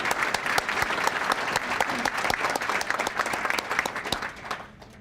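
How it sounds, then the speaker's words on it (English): A veterans day luncheon audience applauds with loud, dense clapping and sharp individual claps standing out, sustained before tapering off near the end. "Let's give him a round of applause, Dave."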